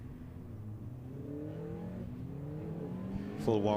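Junior Mini Challenge race cars on their warm-up lap at a circuit, engines droning and slowly rising in pitch as they pass at a distance, with one car revving louder and closer at the end.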